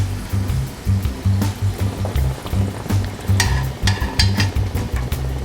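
A chicken chimichanga fries in hot oil with a steady crackling sizzle and bursts of bubbling that rise and fall across several seconds. It is heard close up with no talking.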